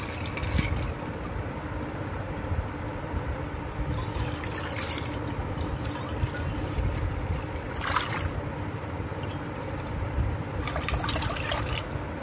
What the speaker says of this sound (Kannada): ಒಂದು ಸ್ವಲ್ಪ ಜಾಸ್ತಿ ಪ್ರಮಾಣದಲ್ಲೇ ನೀರು ಹಾಕಿದ್ದೀನಿ